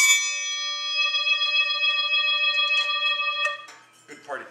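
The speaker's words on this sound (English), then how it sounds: "The swing gong." A swing gong on a drummer's percussion rack rings with a long, shimmering metallic tone that sustains for several seconds before fading into a brief rustle.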